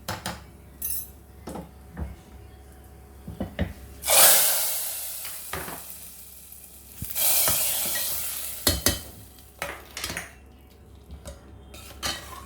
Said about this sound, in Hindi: अब ये तड़का जो है ये हम दाल में डाल देंगे।